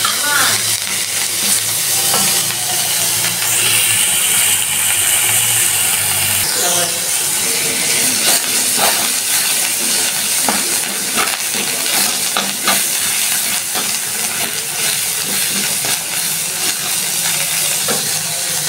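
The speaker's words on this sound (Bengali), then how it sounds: "এটা নিম পাতা ভাজা হচ্ছে আলু দিয়ে" Neem leaves fry with potatoes in a home kitchen, giving a steady close sizzle and hiss with scattered clinks of stirring, continuing unbroken throughout.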